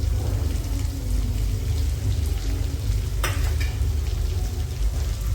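Finely chopped onions sizzle steadily in hot oil in a pan while dal is being made, a loud, continuous frying hiss close by, broken by one brief clatter of stirring.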